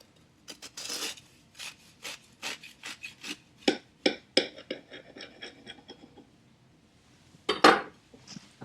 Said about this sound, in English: I think I should dig in and cut a slice and see how it looks